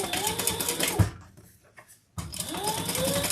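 A sewing machine runs in two bursts of steady, rapid stitching on a cotton bag, with a short quiet pause between them where the motor stops.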